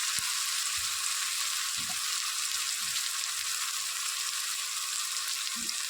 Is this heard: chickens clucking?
no